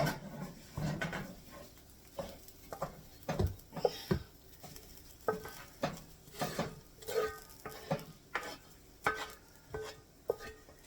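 Repeated scraping and clinking of a utensil stirring hamburger casserole ingredients in a pan, in short rhythmic strokes, close by with no talking.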